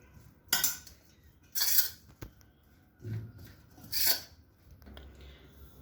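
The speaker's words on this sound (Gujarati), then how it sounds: "હવે આ બધું મિશ્રણ સૌપ્રથમ આપણે મિક્સ કરી લઈશું" Ingredients for a paratha filling, including chopped coriander, are mixed in a bowl with a spoon, giving several separate bursts of metal scraping and clinking against the dish with short quiet gaps between them.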